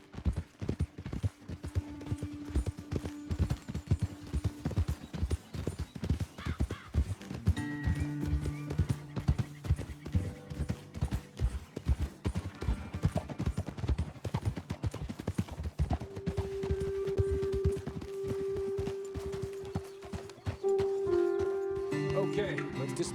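Several horses clip-clop at a steady run in Red Dead Redemption 2, hooves thudding close and continuous with an occasional whinny, while characters talk over the ride and tonal game music rises toward the end.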